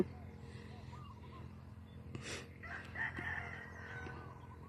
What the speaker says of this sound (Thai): ไก่มันหากินไก่จริงดูดิ